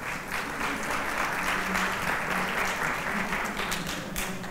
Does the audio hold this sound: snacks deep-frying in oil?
no